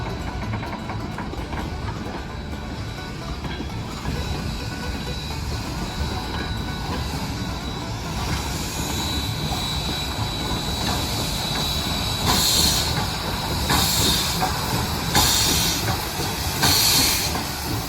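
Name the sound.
steam locomotive pulling caboose train at railroad museum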